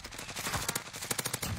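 Rapid automatic gunfire from a video game, a short burst of close, dense shots repeating in a fast, uneven rhythm for just over a second, with no talk.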